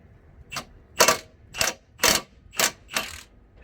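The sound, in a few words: ratchet with 19mm socket loosening brake bracket bolts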